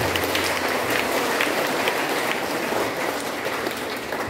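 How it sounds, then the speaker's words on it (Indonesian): A church congregation applauds at a Christmas mass, steady massed clapping filling the whole stretch at an even loudness, with no talk over it. "saya minta kita semua memberikan tepuk tangan aplaus"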